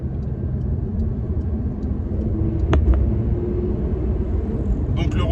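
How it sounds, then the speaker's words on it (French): Porsche GT3 992 flat-six engine running, a steady low rumble at close range with a brief sharp click partway through and a slight rise near the end. "Voilà, un flat 6. Bien vigoureux"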